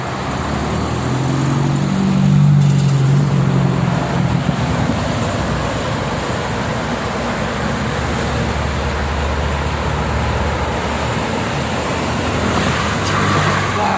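Afternoon traffic streams along the Jakarta-Cikampek toll road, a steady broad roar of cars and buses passing close by, with a slightly louder swell early on and no talking.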